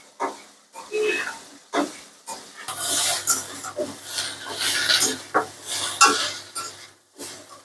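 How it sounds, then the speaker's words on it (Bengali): Potatoes and mixed vegetables frying in oil in a pan, stirred in repeated bursts of scraping and sizzling, close and fairly loud, with a steady frying hiss underneath. "এবার দিয়ে সব নাড়াচ্ছি।"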